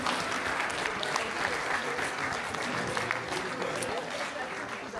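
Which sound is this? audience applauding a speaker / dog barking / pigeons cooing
audience applauding a speaker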